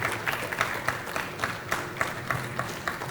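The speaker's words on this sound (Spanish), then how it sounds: "les damos un fuerte aplauso desde Delicias a cada uno de ustedes" An audience applauds during a Christian interactive broadcast from Delicias, a soft, distant patter of clapping with faint pulsing peaks and no speech over it.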